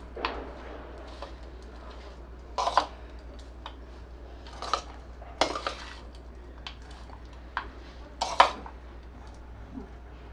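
Quiet, intermittent scraping and clinking of a spoon against a pan as sesame rice is stirred, with irregular bursts of metallic taps over a low background hum.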